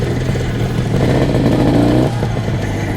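An IZh Jupiter 400cc motorcycle with twin carburetors rumbles loudly and continuously while being ridden, its engine note rising briefly before settling back.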